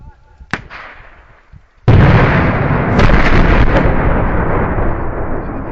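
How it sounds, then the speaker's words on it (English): An 18 kilo bucket of ANFO explodes at a mine blast site: a few faint pops come first, then a single sudden, heavy boom with a long rumbling roar that slowly fades. "that was an 18 kilo bucket of ANFO that made that bang"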